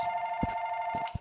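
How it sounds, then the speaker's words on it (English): A mobile phone rings indoors with a steady electronic tone that holds throughout, broken by a few soft knocks and handling sounds nearby. "That was my phone ringing."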